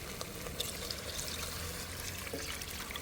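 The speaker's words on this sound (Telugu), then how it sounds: "ఇప్పుడు మనం వాటర్ వేసేస్తున్నాం" Water is poured into a pot of gravy on the stove, making a continuous splashing trickle that holds steady and close for a few seconds without any talk.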